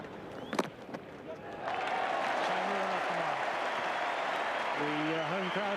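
Home Victorian crowd at an Australia v West Indies Test cricket match breaks into steady applause and cheering after a few faint earlier claps, a broad sustained clatter of hands with a commentator's voice talking over it.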